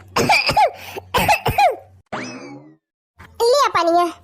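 A woman character in an animated Awadhi family comedy coughs a few times, a voice actor imitating the cough, mixed with voiced talk and short cartoon-style sounds.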